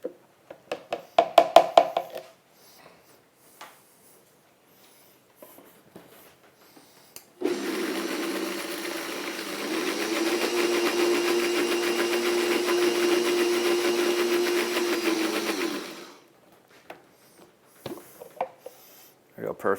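Countertop blender whirring steadily for about eight seconds while blending peanut sauce with soy sauce and coarse salt, preceded and followed by brief clatter and kitchen handling noises.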